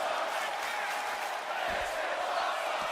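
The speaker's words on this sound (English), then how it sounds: "You can hear the crowd." A large wrestling arena crowd roars continuously, loud and dense, with cheering and shouts blending into a steady wall of noise.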